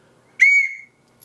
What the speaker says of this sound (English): So I guess if you get lost, that is a good whistle